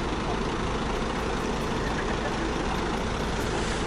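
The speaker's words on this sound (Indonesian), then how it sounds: "Banyak bus juga yang udah standby di sini." Intercity buses, including Borlindo coaches on the Makassar–Palu route, stand idling at a terminal in a continuous, even diesel drone that stays loud and unbroken throughout.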